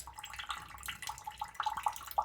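Water drizzles through a water filter into a container, a close, thin trickle with irregular bubbly splashes and gurgles that grow slightly louder toward the end, with no talking.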